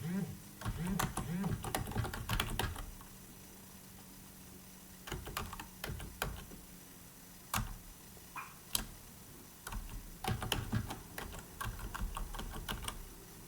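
Computer keyboard typing in short bursts of quick clicks as a username and password are entered, with pauses between runs of keystrokes, close and fairly quiet, and someone speaking intermittently.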